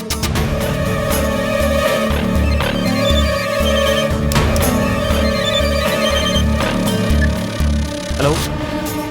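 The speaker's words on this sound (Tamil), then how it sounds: "ரிங் போகுதுக்கா." A ringing tone from an outgoing telephone call in a Tamil TV drama repeats steadily, mixed under loud background music and voices.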